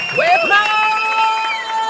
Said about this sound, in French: Oumou, Bintou, Elita et Adjoa, sous vos applaudissements